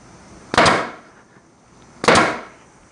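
A flooring nail gun fires twice into bamboo flooring, each shot a sharp, loud crack with a short decaying tail, the two blasts spaced about a second and a half apart with quiet between.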